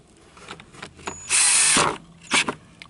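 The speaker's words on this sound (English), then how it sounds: "This drill is not able to turn it over" A power drill trying to turn over a partially seized Chinese ATV engine whirs briefly at high speed for under a second, with a short second burst after, amid mechanical clicks and handling sounds.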